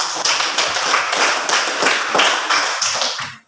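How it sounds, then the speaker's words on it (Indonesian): A school class claps their hands in a lively, steady rhythm of sharp bursts, loud and close, stopping abruptly at the end. "Tepuk tangan dulu."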